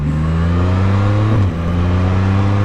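A Can-Am Spyder F3-S three-wheeler with an Akrapovic exhaust revving hard through a burnout, a loud, steady, close engine drone with a brief dip and pitch shift midway before climbing again.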